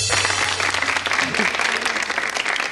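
Steady audience applause at a stand-up comedy show, dense clapping from a room full of people, with a faint voice underneath.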